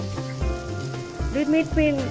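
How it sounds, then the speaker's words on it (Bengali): Chunky cubed onions fry in spiced, cooked-down curry masala for chicken changezi, a brief close sizzle with a few tonal sounds rising over it. "3-4টি পেঁয়াজ আমি একটু মোটা করে কিউব করে কেটে এটাতে এই 2-3 মিনিট ভেজে নিব"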